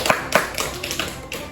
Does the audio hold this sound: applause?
yes